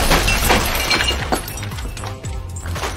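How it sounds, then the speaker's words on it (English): A light tube shatters loudly, with crashing glass and splintering debris scattering for several seconds in a dense burst. "The light tube in Mark's hand was also smashed on the spot"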